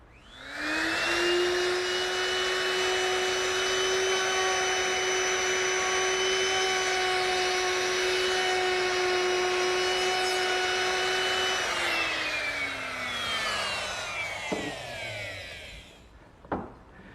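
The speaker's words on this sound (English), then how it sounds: "All of those are accomplished using this chamfering bit." A router fitted with a ball-bearing-guided chamfering bit cuts along wooden planter rails in a steady, loud, high whine that holds for about twelve seconds. The motor then spins down and stops, followed by a couple of faint knocks.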